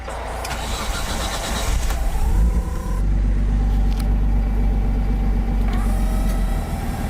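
A Nissan R32 Skyline's engine cranks briefly, catches, and settles into a steady, close idle with a low rumble.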